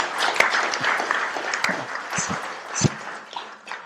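An audience at a talk breaks into scattered clapping, loose and uneven over a soft room murmur, with a few sharper claps standing out near the middle.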